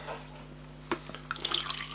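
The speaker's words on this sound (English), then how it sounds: "And then we shall fill your water back up, Mr. Snail." Tap water runs into a snail's water dish, a soft trickle with a few drips and splashes that build toward the end, heard alone at close range.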